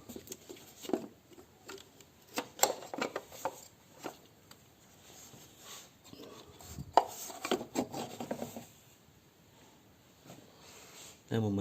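Someone removes the oil filter cartridge from a diesel Opel Corsa, making faint scrapes, clicks and plastic rubbing at close range, in scattered bursts. Quiet talk may sit under the handling.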